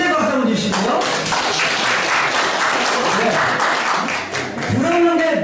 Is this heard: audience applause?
yes